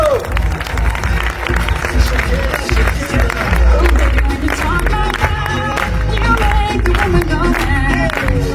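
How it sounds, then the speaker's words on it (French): An audience at a 2025 kick-off event in Aix-en-Provence applauds Maria Elena and Lorenzo: dense, sustained clapping with crowd murmur and a steady backing of music, loud and continuous throughout. "Je vous prie un tonnerre d'applaudissements pour Maria Elena et Lorenzo."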